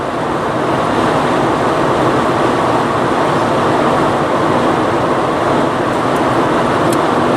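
Steady broadband road and engine roar from inside a vehicle cruising at about 60 on a desert highway near Rodeo, New Mexico, with a car approaching and a truck slowly gaining from behind; constant and loud throughout.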